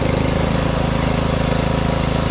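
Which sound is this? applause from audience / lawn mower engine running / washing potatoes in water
lawn mower engine running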